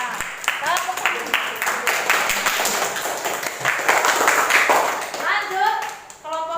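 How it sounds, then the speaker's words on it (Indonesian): Classroom applause from a group of students, steady clapping filling the room at close range, with children's voices mixed in underneath and a few chirpy calls near the end. "Ya, tepuk tangan."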